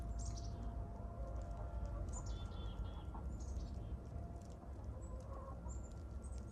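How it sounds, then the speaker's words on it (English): Faint, high birdcalls chirp sporadically over a low outdoor rumble in Alaska in January, distant and quiet, with no talking. "You hear the birds?"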